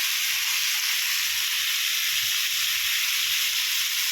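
Cumin and ginger paste fries in a pan, giving a steady, close, even hiss and sizzle that runs unbroken throughout with no voices.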